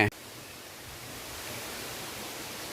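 A waterfall in the Pachamalai hills gives off a steady, broad rushing hiss that sounds distant and unchanging after a short sharp noise at the very start.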